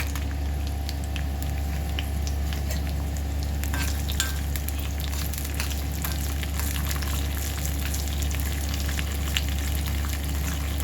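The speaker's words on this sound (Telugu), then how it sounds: "వీటన్నిటిని తాలింపులో వేద్దామండి." Dry red chillies, mustard seeds, cumin, urad dal and garlic cloves sizzle in hot oil as a tempering for a gongura and spinach curry, a steady close crackle and hiss with no talking.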